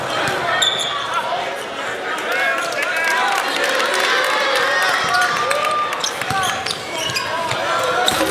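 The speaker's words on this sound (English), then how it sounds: "The crowd already into it." A college basketball crowd in an arena, Utah against Coastal Carolina, roars and cheers steadily and loudly throughout, with ball bounces and sneaker noise mixed in beneath a commentator talking.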